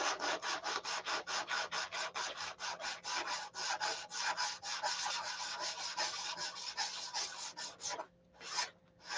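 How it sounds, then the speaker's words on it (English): Rapid, steady back-and-forth scraping of sandpaper on a surface, a fast even rhythm of strokes that slows to a few final passes at the end. "I spent 2 seconds sanding that, and it's fixed already."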